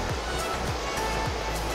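The Tenga river flowing through a mountain valley at night, a continuous broad rush and murmur of water with faint low rhythmic thumps beneath.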